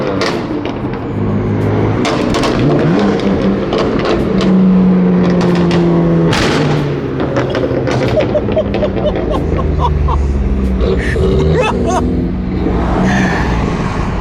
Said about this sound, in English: the F80 is ridiculous. It literally sounds like bombs are going on